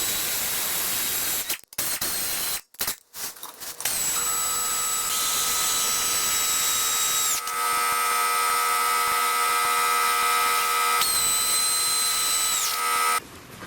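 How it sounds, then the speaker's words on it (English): Power tool running bolts onto a GM 9.25 front differential cover on a 3/4- or 1-ton Chevy/GMC truck, with two long sustained whining runs after a few brief clicks and bumps, close and steady. "I'm going to go ahead and thread all these bolts on"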